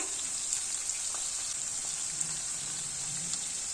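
Capsicum pieces fry with salt and turmeric in a pan, making a steady bright sizzle with small scattered crackles throughout and no talk.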